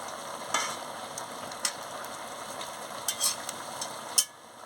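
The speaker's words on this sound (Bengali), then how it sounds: "এবার আমি সোয়াবিনটা দিয়ে দিচ্ছি, দিয়ে ভালো করে একটু নাড়িয়ে নিচ্ছি।" Soybean chunks stirred together with half-cooked papaya and potato in a pot, soft scraping and a gentle sizzle under a steady background hum, with a few brief clinks and knocks.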